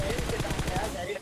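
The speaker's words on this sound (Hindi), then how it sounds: "लेकिन भाई तभी पीछे से कोई बंदा और फायर कर रहा था" Rapid automatic gunfire from a mobile battle royale game played on a Realme 6 phone, with close, loud, evenly spaced shots filling the whole moment.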